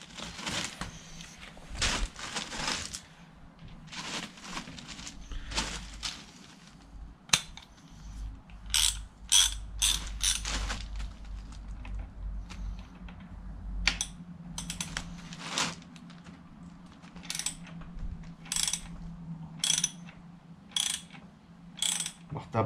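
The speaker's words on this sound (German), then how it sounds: "Dann nehmen wir uns eine Ratsche und dann schrauben wir die Kartusche mal raus." A ratchet unscrews the cartridge from a 2019 RockShox Yari suspension fork on a Canyon Torque AL mountain bike. It gives soft, close-up clicking in rapid bursts, separated by brief pauses.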